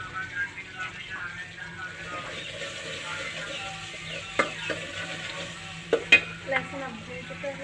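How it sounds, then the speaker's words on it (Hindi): Garlic ginger paste fries in hot ghee, giving a steady close sizzle with a few sharp clinks of a spoon against the pan, while a voice talks faintly in the background. "घी गर्म हो चुका है तो हम इसमें डालते हैं जल्दी से लहसुन अदरक का पेस्ट 1 स्पून"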